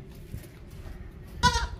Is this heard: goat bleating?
yes